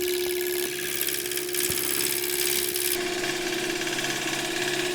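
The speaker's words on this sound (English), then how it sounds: "we're just slowly chipping away at that square, turning it into a cylinder." A wood lathe turns a square blank into a cylinder, its steady motor hum running throughout under an irregular scraping of the tool against the spinning wood, close and fairly loud with no talking.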